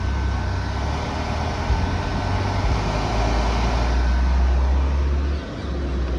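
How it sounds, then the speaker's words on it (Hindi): A Tata Nano's AC condenser fan runs as a loud, steady whirring drone with a low hum, continuous and close up, with no talking over it. "यहाँ पे है इसका कंडेंसर फैन।"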